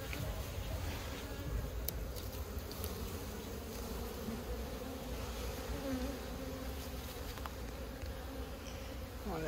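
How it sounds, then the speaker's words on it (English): Honeybees buzz steadily around an opened backyard hive, a dense close swarm drone holding throughout with no break, while someone speaks faintly now and then beneath the insect noise. "Man, a bunch of bees in there."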